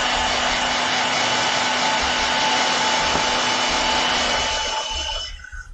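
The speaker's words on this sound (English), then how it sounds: "I'm going to use my hairdryer real quick." A hair dryer blows with a steady, close whirring hum, then cuts off and winds down near the end.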